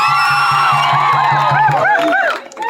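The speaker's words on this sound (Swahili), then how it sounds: "Makofi kwa hilo." Crowd at a secondary school event in Bukhonyi cheering, whooping and shouting loudly, with high excited voices rising and falling, then tapering off near the end.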